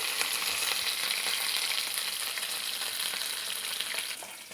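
Crushed garlic cloves and curry leaves fry in hot oil with a steady, close, hissing sizzle and faint crackles throughout, with no voices.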